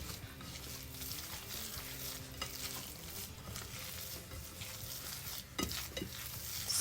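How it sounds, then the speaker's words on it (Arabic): Dough of water and milk being stirred in a bowl, with close, soft, sticky scraping and wet squishing in an uneven rhythm, faint overall, with a sharper knock near the end. "ملي كنديروا الماء والحليب كنبقى غير نحركها، كنعجنوهاش، غير نحركها."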